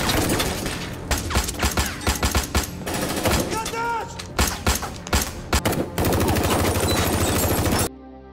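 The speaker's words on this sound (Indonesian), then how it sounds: "Baku tembak pun kembali terjadi." Rapid bursts of automatic gunfire and single shots ring out in a basement shootout between a special forces team and fighters, loud and dense with a thumping score underneath, cutting off abruptly near the end.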